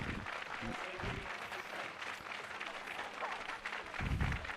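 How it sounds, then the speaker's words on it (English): A crowd applauds the athletes at a national women's recurve archery final, steady broadband clapping throughout with a few louder bursts, no talk. "the crowd showing the appreciation there for the athletes"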